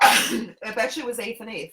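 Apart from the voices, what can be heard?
sneeze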